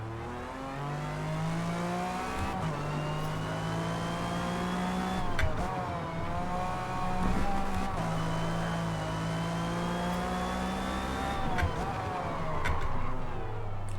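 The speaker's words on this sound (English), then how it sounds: "Hearing other car noises, but I don't see them on the track." Race car engines in Forza Motorsport, including a 1997 McLaren, whine and rev continuously, pitch rising and dropping through gear shifts, with occasional sharp clicks under the steady engine roar.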